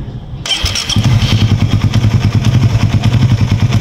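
A Rusi R150Fi motorcycle engine with its oil pump opened up cranks and starts after a short click, settling into a close, loud, rapid idle chug.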